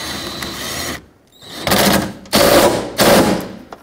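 A power tool drives the seat belt bolt on a 1998–2011 Ford Ranger extended cab, heard as three short, loud whirring bursts with buzzy impacts, separated by brief pauses after a quieter opening hum.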